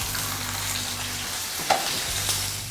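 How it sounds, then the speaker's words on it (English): A slice of ribeye sizzles steadily in a little oil in a pan, a continuous close hiss with a brief louder crackle partway through. "got a pan, a little bit of oil, slice of ribeye, that goes in."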